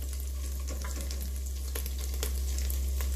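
Chorizo frying in hot oil, a dense steady sizzle with scattered sharp pops and spatters over a low burner hum, close and loud with no talk.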